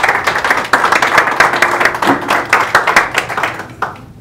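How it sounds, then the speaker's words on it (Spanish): Loud applause from a small crowd, clapping in quick bursts that rise and fade over a few seconds. "Un fuerte aplauso."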